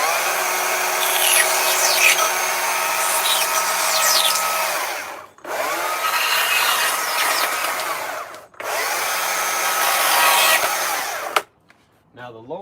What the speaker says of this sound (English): we'll go through with the die grinder to clean it up and make it look good as new